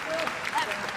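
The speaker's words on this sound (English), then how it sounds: "Receives a round of applause from the audience here." An audience at a grappling event gives a brief, steady round of applause, dense clapping filling the short moment with a voice faintly present.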